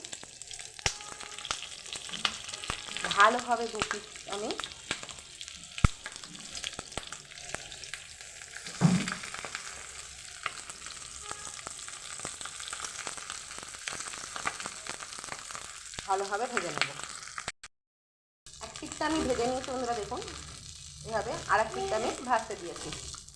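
Cabbage momos fry in hot oil on a tawa with a low, constant sizzle under intermittent talking, broken by a brief dropout near the end before the sizzle and speech resume.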